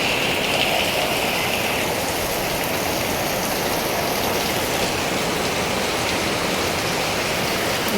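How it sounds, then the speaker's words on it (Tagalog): Heavy typhoon rain from Typhoon Enday pours steadily and loudly as a dense, continuous hiss of drops on surfaces, unbroken for the whole stretch with no voices. "Ang lakas ng ulan."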